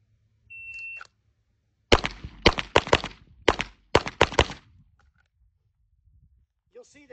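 Pistol shots ring out on a range during a far-to-near target transition drill, two quick bursts of about four sharp cracks each after a short beep, loud and close with brief pauses between.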